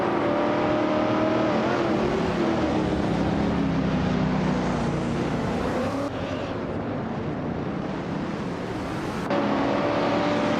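Racing video game engines, led by a 1970 Chevrolet Camaro Z28 in a vintage supercar class, roar steadily and loudly throughout, with overlapping revving tones from several cars shifting pitch at the start of a race.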